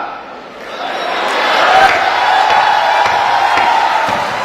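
An audience at a comedy storytelling performance roars and cheers, a loud crowd swell that builds over the first two seconds and then holds with scattered shouts and claps.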